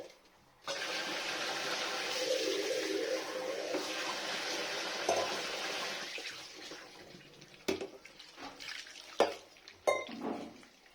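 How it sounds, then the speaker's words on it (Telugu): Water from a kitchen tap runs in a strong steady stream for several seconds, then stops, followed by clinks of dishes and utensils. "నీళ్ళు బాగానే పడతాయి అనుకుంటా"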